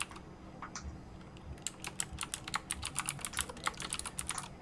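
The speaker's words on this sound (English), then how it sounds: "I bought this very clicky keyboard because it's nice and reliable and good for writing on, and it's just really loud" Fast typing on a loud, clicky computer keyboard, a quick run of sharp, close clicks that grows denser and steadier toward the end, with no talking.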